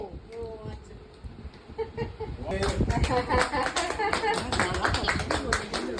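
Family members clapping at an anniversary cake cutting, a burst of quick uneven applause close by that starts midway and keeps going, mixed with lively overlapping voices and cheering.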